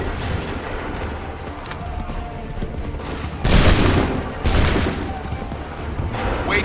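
Musket volley fired on command in Assassin's Creed 3, two loud, crackling bursts of massed gunfire a second apart over steady battlefield noise.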